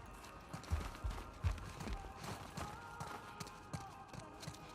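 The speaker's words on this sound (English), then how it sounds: "Oh, he has a donkey." Donkey hooves clip-clopping in The Last of Us Part II, a steady series of close, moderately loud hoof knocks over a busy outdoor game ambience.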